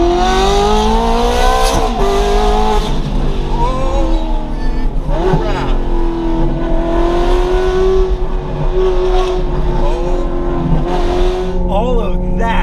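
A rebuilt, previously crashed Ferrari revs hard while driving, its loud engine note climbing and dropping through the gears in a continuous, close-up roar that runs the whole time.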